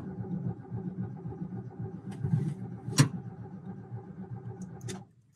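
Starting attempt on a 1979 VW Westfalia bay window bus with an air-cooled engine that has running problems: a low, uneven cranking rumble over about five seconds, a sharp catch near the middle, then it cuts off.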